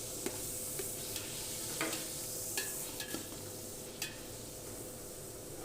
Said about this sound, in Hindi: गरम घी के अंदर चिकन डाल के उसको मुकम्मल तौर पे तैयार किया जाएगा